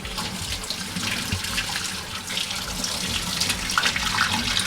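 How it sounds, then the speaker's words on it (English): Hands being washed under a running kitchen tap, a steady close stream of water splashing into a sink with slight changes as the hands move, alone without talk. "Wash my hands real quick."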